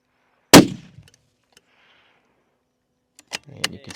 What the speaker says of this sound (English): So this will be a cold bore shot here.